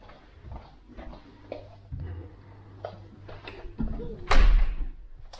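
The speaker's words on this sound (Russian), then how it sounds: "Плюс закрываем двери." Doors are shut one after another, producing scattered knocks and thumps that build to a loud closing bang near the end, with faint room sounds between.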